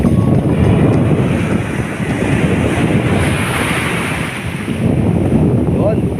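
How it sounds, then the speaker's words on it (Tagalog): Strong ocean waves at the shore on a fishing trip, a loud continuous roar and wash of surf with heavy wind buffeting the microphone throughout. "Medyo malakas ang alon guys"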